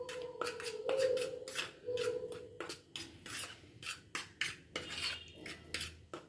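Dish wash liquid and lemon juice being stirred together in a kitchen container, with repeated scraping, clinking utensil strokes in an uneven rhythm, close and fairly loud, no talk.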